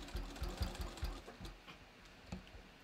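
A sewing machine stitches bathrobe fabric around curves in short, quiet bursts of rapid mechanical thumping that stop and start, heard close up.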